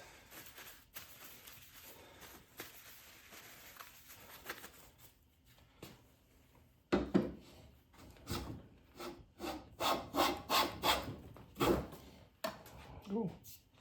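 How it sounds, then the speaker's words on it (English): A Lie-Nielsen #4 bench plane pushed across wood, taking a full-width shaving: a quiet early stretch of light rubbing, then a run of loud, close, rasping strokes in quick succession, each a swelling scrape of steel on timber. "Oh, that was a full width shaving."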